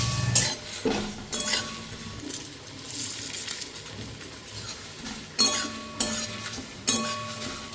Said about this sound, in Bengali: তো চলো আগে এগুলোকে ফ্রাই করব